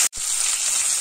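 Cumin and mustard seeds hitting hot oil, a brief hiss after a short gap, then a steady bright sizzle close by.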